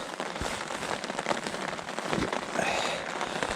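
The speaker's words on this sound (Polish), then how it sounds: "spójrzcie, trochę pada" Steady light rain pattering on a surface, a soft continuous hiss with scattered drop taps throughout, fairly close and even in level.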